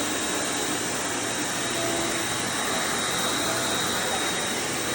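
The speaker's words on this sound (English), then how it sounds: "Kind of spot vacuuming." Vacuum cleaner spot-vacuuming an office floor, a constant loud whining roar that runs unchanged throughout, close by with no talk.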